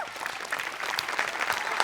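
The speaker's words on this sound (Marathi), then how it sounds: "सगळ्यात आधी खूप जोरदार टाळ्या वाजल्या पाहिजेत" Steady audience applause at a Marathi comedy show, a dense even patter of many hands clapping throughout with no talk over it.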